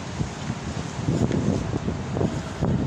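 Outdoor breeze buffets the microphone with continuous low rumbling gusts, swelling and easing over a few seconds with no voices.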